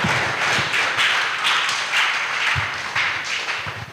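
Audience applause welcoming the next speaker at a youth summit: continuous crowd clapping, fairly loud and close, with a few sharper individual claps standing out and no talk over it.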